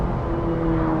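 Ferrari 458 Spider with an iPE exhaust and seven-speed dual-clutch gearbox, heard from inside the open convertible as a steady, loud, droning engine tone with a sustained high whine, continuous for the whole second.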